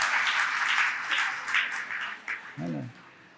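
Audience at a religious sermon bursts into a round of applause that gradually thins out, followed by a brief voice near the end.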